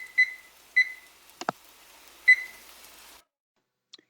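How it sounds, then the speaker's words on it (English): Three short, sharp beeps from a kitchen timer being set in a quiet kitchen, spaced irregularly, with a couple of soft handling clicks between them and a faint tick near the end. "I'm going to set my timer here for 12 minutes"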